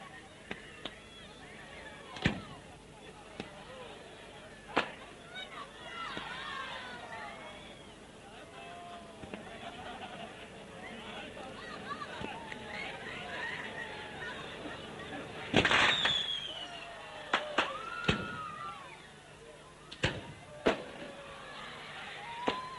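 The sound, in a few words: fireworks display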